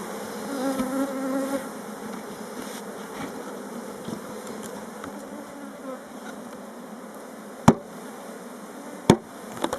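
A swarm of honeybees clustered around their queen buzzes in a dense, steady drone close by, with a couple of sharp clicks or knocks near the end.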